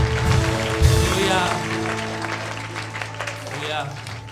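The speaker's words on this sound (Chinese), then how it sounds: "更大的掌声" A church congregation at an Easter praise service applauds, clapping blending with loud voices and singing or shouting throughout, dense and close.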